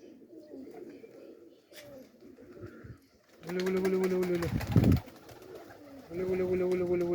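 Kherson pigeons coo in a loft, two loud, sustained throaty bursts following a stretch of quieter murmuring and low talk.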